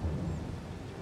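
Thunder and rain in Farming Simulator 22 come through as a brief, deep rumble over a steady rain wash, with no talking.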